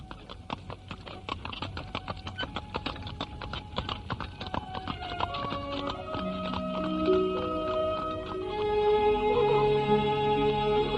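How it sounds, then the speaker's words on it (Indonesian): Horse hooves clip-clop steadily as a horse-drawn carriage travels along a village road in a radio drama, a rhythmic patter joined midway by sustained melodic music that swells underneath. "Kereta kuda yang ditumpangi Arya Dwi Pangga dan Narirati berjalan menyusuri jalan desa"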